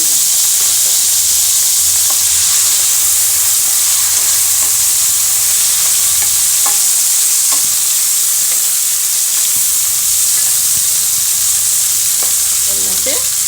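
Onion, cauliflower and peas frying in a pan, a loud, continuous hiss and sizzle with occasional stirring clicks and scrapes, close up, no talking.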